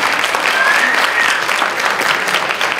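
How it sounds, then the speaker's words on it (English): Steady, dense applause from a school audience after a panel discussion, filling a hall and holding evenly at close range for about three seconds. "So give a round of applause."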